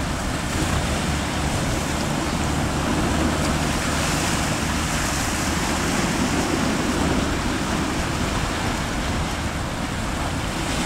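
Wooden fishing boat pounding through big, rough ocean waves in strong wind, a continuous loud roar of surf, engine and wind rushing without a break.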